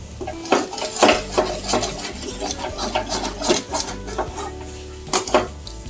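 A spoon scrapes and clinks steadily in a pan of chana dal being cooked with hing, with irregular metallic knocks and stirring scrapes close by and no talk.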